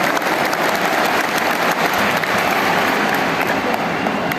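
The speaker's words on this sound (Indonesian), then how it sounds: "Tepuk tangan untuk semua yang memilih hadir di sini." Dense, steady applause from a large crowd at a Jakarta campaign rally in an open stadium, loud and continuous throughout with no clear voices above it.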